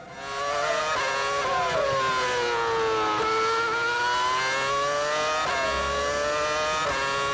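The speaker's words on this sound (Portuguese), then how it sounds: "Aí nós estamos com o Mark Webber, tenta ouvir" Formula 1 car at the 2007 United States Grand Prix, its engine screaming high and loud with rising and falling pitch sweeps as it shifts through gears, a sustained close onboard howl without talk.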